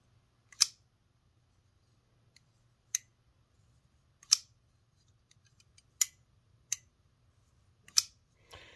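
A Norseman guillotine-action cigar cutter snaps open and shut in about seven sharp, crisp clacks spaced a second or so apart, close and isolated against near silence.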